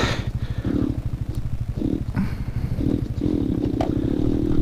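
A Talaria Sting electric motorcycle slides on an off-road trail at an OHV area in Oregon, giving a steady low whir and rumble with scraping, clattering bursts as the tires lose grip.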